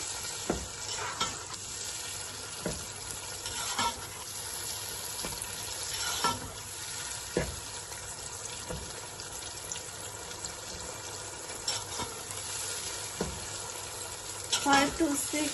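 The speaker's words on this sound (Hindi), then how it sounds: "फिर इसको अच्छी तरह से भून लें।" Rice and peas stir-frying for mattar pulao, a steady close sizzle with repeated scraping stir strokes across the pan throughout, while a voice speaks intermittently.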